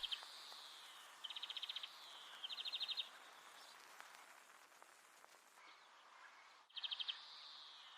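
A bird chirping sample in a music mix plays as short, bright trilled bursts repeated several times, faint and close, over a quiet hiss background.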